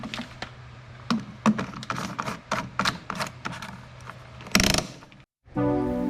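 A ratchet with a 5/8 inch deep well socket turns on a lawn mower spark plug, giving a rapid run of sharp, close clicks in bursts, then a brief silence and a buzzier mechanical stretch.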